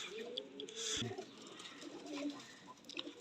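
A teddy pigeon coos softly nearby, low and throaty, with faint background noise and a brief rustle partway through.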